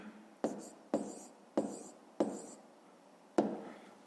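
Pen or pencil writing a fraction on paper, five sharp scratchy strokes each trailing off, close and fairly quiet with no talk.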